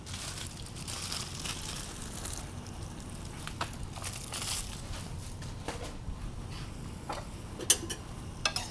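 Broccoli and cauliflower dropped into reduced adobo sauce in a pan give a steady close sizzle with crackling and stirring scrapes, a few sharper clicks near the end, no voices.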